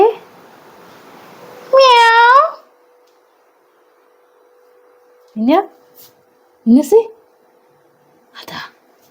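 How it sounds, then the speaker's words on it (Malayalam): A cat being played with indoors gives several clear, close meows: one long rising cry early on, then a few shorter meows spaced out over a quiet room. "പൂച്ചിനെ കളിപ്പിച്ചിരിക്കുക അവിടെ"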